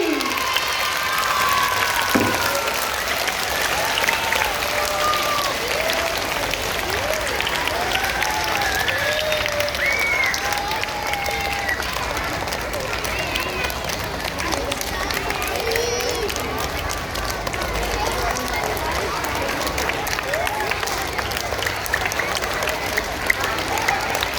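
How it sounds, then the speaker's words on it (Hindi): Loud, sustained applause from a crowd of schoolchildren at a Hindi Day celebration, steady dense clapping with cheering and young voices mixed in throughout. "जोरदार ताली बजाएंगे"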